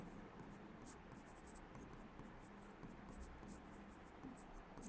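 A pen or marker writes during a chemistry lesson, producing faint scratchy strokes in short irregular bursts over a quiet room background.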